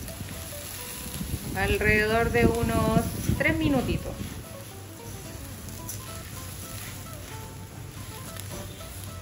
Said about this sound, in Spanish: Como si chisporrotea nuestro arrocito, ¿eh?